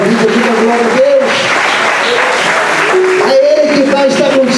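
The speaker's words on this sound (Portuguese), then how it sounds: "Você pode dar mais um aplauso ao Senhor por essa promessa da tua vida." A church congregation applauds in a steady, loud wash of clapping that runs the whole time, with a voice and sustained music carrying over it.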